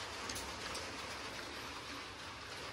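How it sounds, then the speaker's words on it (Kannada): Rain falls in a steady, even hiss of drops on surfaces, faint and continuous throughout without talk. "ಮಳೆ ಬರಾಕತ್ತೈತೆ ನಮ್ಗೆ ಖುಷಿ ಆಗೈತಿ"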